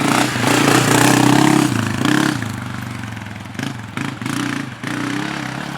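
A Honda CRF250F dirt bike engine runs nearby, rising briefly from a steady mid-pitched idle into a blip, then settling back to a smooth, fairly quiet putter with a few light clatters.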